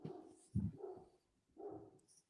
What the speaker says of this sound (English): My dog, I'm sorry, he's going crazy.